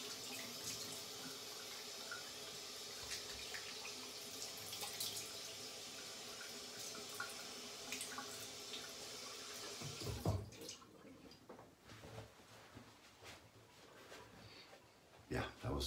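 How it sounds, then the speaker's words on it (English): Tap water runs steadily into a sink for a quick rinse after a straight-razor shave, then cuts off, leaving scattered handling noises and faint splashes nearby. "I'm gonna rinse really quick."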